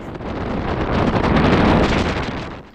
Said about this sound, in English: the wind was as bad as forecast. It really was blowing a hoolie